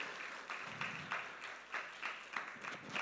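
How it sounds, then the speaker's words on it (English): A church congregation claps along in steady, rhythmic bursts to welcome a guest pastor at a Sunday service, with the even clapping filling the whole stretch and no talk over it. "clap your hands"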